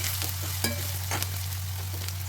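Chopped onions, chilies, mustard seeds and cumin seeds fry in hot oil while being stirred and mixed, giving a steady close sizzle broken by a few scraping stirs, with no voices.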